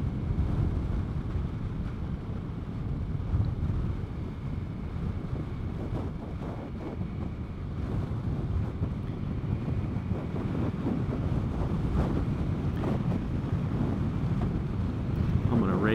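Steady heavy wind buffeting the microphone while riding a Vespa GTS 300 Super Sport scooter straight into a cold headwind, a loud continuous low roar with no pauses and no clear voice over it.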